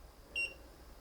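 An electronic thermometer gives a single short, high-pitched beep, faint against a quiet room.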